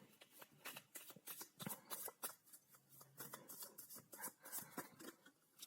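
Tarot cards being shuffled close by in quick repeated riffles and soft flicks, a steady papery patter with no voices.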